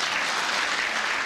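Steady, dense audience applause at a theatre performance marking the 100th staging of the play "Lux No. 13", a continuous wash of clapping that holds even and loud throughout with no voices over it.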